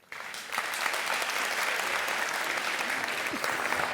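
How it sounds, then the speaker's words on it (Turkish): Studio audience applauding a band on a Turkish TV show stage, a dense, steady wave of clapping that swells after a quiet start and holds loud throughout. "Büyük alkışlar"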